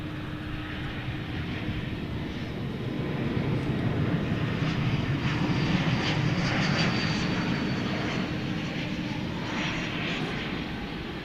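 An American Airlines jet on flight 757 at DFW Airport at night gives a steady, moderately loud engine roar that swells slightly in the middle, heard alone without voices.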